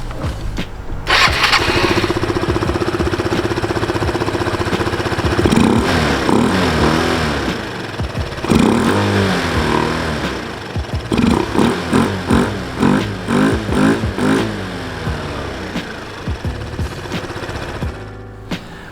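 A 2016 Yamaha Zuma 125 scooter with a new intake runner and filter cranks and starts, then idles and revs in a series of throttle blips, close and loud, with the engine running throughout.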